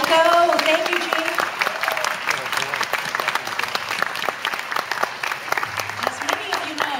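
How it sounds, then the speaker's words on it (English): An audience applauds a Bravo Taiko drum performance at a library event, with dense, sustained clapping from a crowd and a voice speaking over it. "another warm applause to Bravo Taiko"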